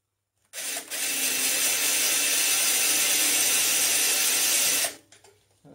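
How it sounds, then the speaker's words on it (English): An electric drill spots holes through metal while moving machine tools, one continuous high whine of about four seconds that starts and stops abruptly, loud and close. "So let's drill these through"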